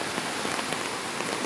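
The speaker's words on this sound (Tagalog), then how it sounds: "Padulong niyang baha dito ila ni Margaret guys kay dol sa tulay" Rain falls during a flood near a bridge, a dense, steady hiss of drops hitting surfaces with no breaks and no voices.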